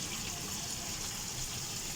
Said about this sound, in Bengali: জল দিই।